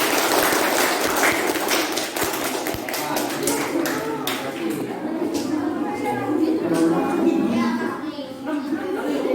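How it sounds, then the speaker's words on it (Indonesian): A classroom of students applauds a classmate, a dense burst of many hands clapping with children's voices and chatter mixed in, fading gradually toward the end. "Beri tepuk tangan untuk Jafar."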